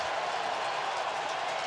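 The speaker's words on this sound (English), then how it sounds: "Cheering a 3-ball count." A baseball crowd at an NLCS playoff game, Nationals at Cardinals, cheers a 3-ball count with a steady, broad roar of many voices that holds throughout.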